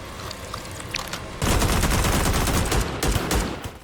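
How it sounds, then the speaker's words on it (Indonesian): Gunfire from a gang shooting in an action horror film, a loud dense burst of rapid shots that starts abruptly and keeps up as sustained fire. "Geng itu mulai menembak lagi, jadi Ethan memilih kabur."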